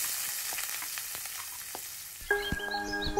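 Tomatoes and beans fry in a pan with a steady, hissing sizzle and light stirring clatter, close by, before a musical tone cuts in over the end.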